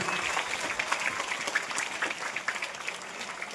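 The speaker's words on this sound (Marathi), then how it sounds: "सगळ्यांनी एकदा जोरदार टाळ्या वाजवा आपल्या शिक्षण समितीसाठी" A crowd claps for the school education committee at a village district council school event, giving dense, steady, loud applause throughout.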